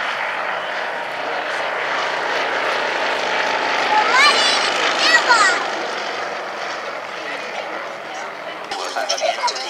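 A vintage Comper Swift light racing monoplane flies at an airshow, its propeller engine droning steadily and loudly overhead as a commentator speaks over it.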